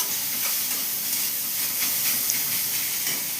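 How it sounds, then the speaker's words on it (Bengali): Carrots tossed into a pan with already-fried onions sizzle loudly and steadily, a dense continuous hiss with faint stirring scrapes, no voices over it. "গাজরটাও একটু নেড়ে চেড়ে ভালো করে ভেজে নেব।"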